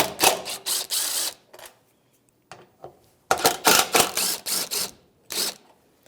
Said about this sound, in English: I'm going to take the top 2 ones off with a T27 socket.